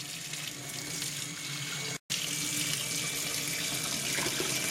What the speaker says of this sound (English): take a quart jar and you're going to put, 4 quarts of water into this